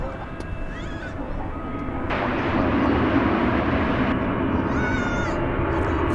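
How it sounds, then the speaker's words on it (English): An airplane at DFW Airport at night, bound for Corpus Christi, Texas, makes a broad, steady jet roar that swells louder partway through and then holds, with faint high whines and tones layered on top. "this aircraft going to Corpus Christi, Texas"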